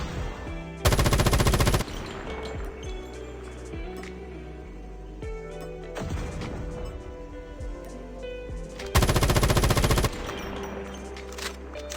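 Two loud bursts of automatic fire from an M13 assault rifle in the mobile shooter Call of Duty Mobile ring out about eight seconds apart, with quieter in-game background sounds between them.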